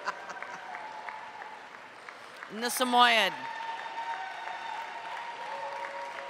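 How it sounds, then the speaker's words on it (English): Faint, steady applause rises from the crowd at the Rose City Dog Classic dog show and stays low in the background while an announcer talks over it. "He likes the applause."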